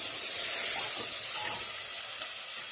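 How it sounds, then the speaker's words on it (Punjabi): Spice paste added to a pan of gravy for a chana dal vadi curry sizzles and hisses steadily and close, without a break and without talk. "ਹੁਣ ਪਾ ਦਾਂਗੇ ਜਿਹੜਾ ਆਪਾਂ ਨੇ ਪੇਸਟ ਬਣਾਇਆ ਏ ਉਹ ਪੇਸਟ ਪਾ ਦਾਂਗੇ ਜਿਹੜਾ ਗ੍ਰੇਵੀ ਤਿਆਰ ਹੁੰਦੀ ਹੈ"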